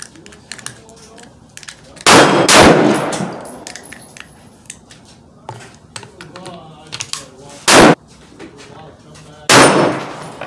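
Winchester rifle fired at four steel gongs 100 yards away, three loud sharp shots spaced apart outdoors, each with a short ringing tail, with faint background noise in between.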